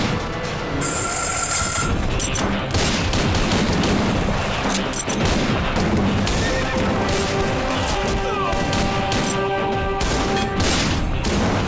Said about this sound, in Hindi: अब शादी में गोली चलाने की क्या जरूरत थी?